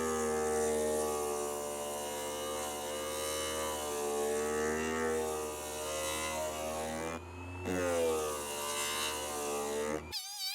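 A sander works along a leather edge, giving a steady close whirring hum with shifting pitch as pressure changes, a brief dip near the end, then it stops abruptly.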